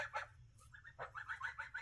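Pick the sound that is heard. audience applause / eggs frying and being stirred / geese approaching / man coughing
geese approaching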